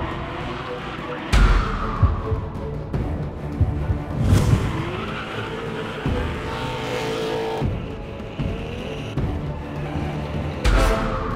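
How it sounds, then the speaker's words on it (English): A drift car slides sideways at a UAE drift event, its engine roaring through repeated bursts of screeching tire skids, with loud surges and sharp revs throughout. "Keeping it sideways to link the whole thing up, to keep it fluid, that's what it's all about."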